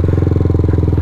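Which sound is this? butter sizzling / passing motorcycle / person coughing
passing motorcycle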